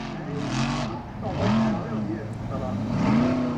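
Formula Offroad car engine revving hard on a hill climb at Akureyri, Iceland, loud surging engine tone rising and falling in waves, heard under a commentator's voice.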